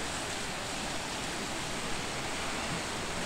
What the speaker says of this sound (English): The sea. Beautiful day on the Italian coast.